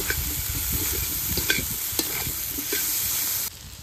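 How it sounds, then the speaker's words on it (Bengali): Food frying in a pan with salt and turmeric gives a steady close sizzle, punctuated by sharp stirring clicks and scrapes, ending abruptly near the close. "এবার ভালো করে ভেজে নেব।"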